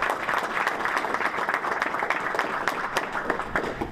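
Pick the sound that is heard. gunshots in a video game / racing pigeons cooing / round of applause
round of applause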